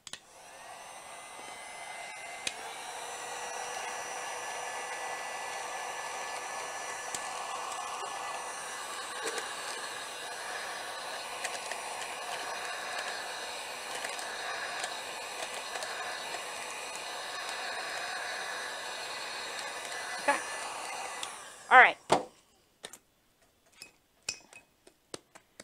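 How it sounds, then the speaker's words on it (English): A handheld heat gun shrinking material blows a steady, even whoosh of hot air for about twenty seconds, then cuts off, followed by a few sharp clinks and knocks. "I'm going to use my heat gun"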